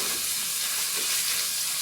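Flour frying in a skillet as the base for a meat and potato casserole, a steady soft sizzle and hiss throughout a short stretch with no talk.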